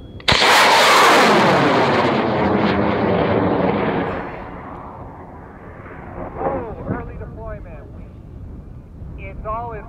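A model rocket on K675 motors lifts off with a loud roaring blast that fades over several seconds as it climbs away, followed by people talking and cheering in the distance.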